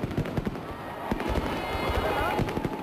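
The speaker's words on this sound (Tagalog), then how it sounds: "sinabayan ng walang kasing kulay at walang kasing kinang na fireworks display" Fireworks bursting over a crowd during a New Year's countdown celebration along a boulevard, with repeated sharp pops and crackles layered over a steady roar of cheering and applause, loud and close.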